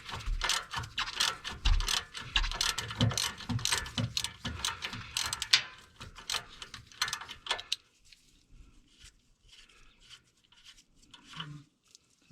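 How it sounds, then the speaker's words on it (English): Ratcheting breaker bar clicking through a snug 14 mm nut on the sway bar link of a 1996 third-generation Toyota 4Runner, a dense run of close metallic clicks and clanks for about eight seconds, then near quiet with faint handling noises. "this one is a 14 mil. It's nice and snug on there. Got our trusty little breaker bar in here."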